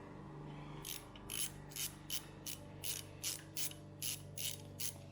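A hand ratchet tightens a T30 bolt while a BMW E36 M52 VANOS is being rebuilt, giving about a dozen crisp clicking bursts in a steady rhythm, close and quiet, with no talk.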